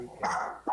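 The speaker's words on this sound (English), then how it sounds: "you might hear my dog start barking because my wife's coming home" A dog barks once or twice during a pause in a pool money match, a short muffled burst at moderate level with another quick yelp near the end, no talking.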